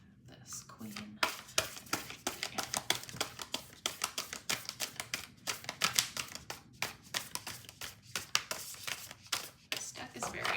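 A very large deck of cards being shuffled, giving a rapid run of dense riffling bursts and crisp flutters close by, with short pauses between passes.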